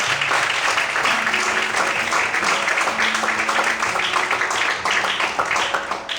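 A standing church congregation applauding in worship, dense sustained clapping that carries on evenly for several seconds, with faint tonal voices or music threaded through and easing slightly at the end.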